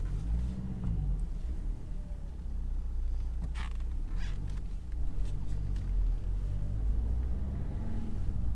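Bicycle being loaded into a car after a service, heard as steady low rumble with creaks and mechanical knocks close by, continuous over about eight seconds.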